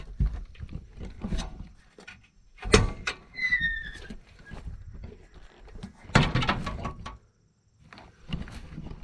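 Expedition One swing-out bumper with a latch being closed, a run of metallic clunks and latch clicks with a brief creaky squeal, close and moderately loud amid scattered handling noises.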